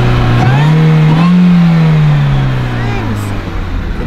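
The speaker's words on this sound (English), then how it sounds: "I can hear the whine of the supercharger" A supercharged 2008 MINI Cooper S Convertible engine accelerates hard, its pitch climbing then easing off, with a high supercharger whine riding above the roar; a voice talks over it.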